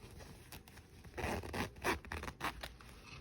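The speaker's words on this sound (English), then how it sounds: "open the zipper." An invisible zipper is pulled open along fabric, a faint, close series of short scratchy zipping bursts in a quiet room.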